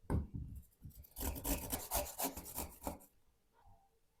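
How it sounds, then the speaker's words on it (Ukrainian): Rapid rasping strokes of a carrot being grated on a coarse grater, close and steady for a few seconds before stopping. "Морковину натру на велику терку."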